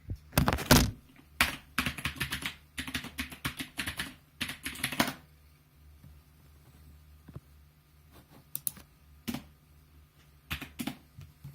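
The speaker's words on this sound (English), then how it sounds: "So I'm putting down the phone again and typing password." A password being typed on a computer keyboard: bursts of rapid key clatter for about five seconds, close and fairly loud, then sparse isolated keystrokes and taps over a low steady hum.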